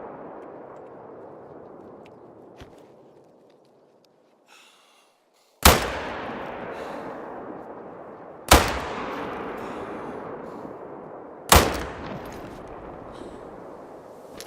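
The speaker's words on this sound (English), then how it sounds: "That was terrible shooting." Three sharp, loud rifle shots from the hunting game Call of the Wild, spaced a few seconds apart, each with a long decaying echo over a low ambient rumble.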